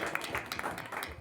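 Audience applause at a Marathi bhajan performance, a short burst of many hands clapping, moderately loud and steady over its brief length.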